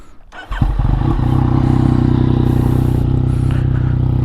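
Yamaha MT-09 847cc motorcycle with 11,720 on the odometer cranks briefly after a moment of quiet, then fires and settles into a loud, steady, throbbing idle close by with no talking.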